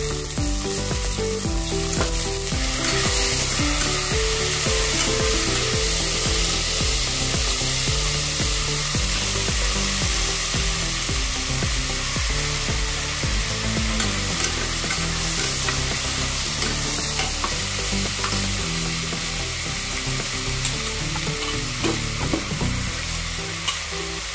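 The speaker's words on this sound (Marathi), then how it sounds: "आता असा हलवून घ्यायचा भात चांगला तुपात।" Two cups of washed, soaked kolam rice are stirred in hot ghee for Kashmiri pulao, giving a loud, steady sizzle with continuous stirring and scraping in the pan, close up, over a faint tonal background sound.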